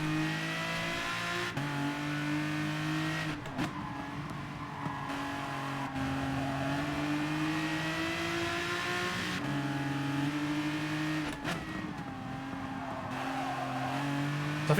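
Race cars in Gran Turismo Sport, including an Aston Martin DBR9, surge away from the start, a dense field of engines droning and rising in pitch together, loud and continuous, with a faint tire squeal.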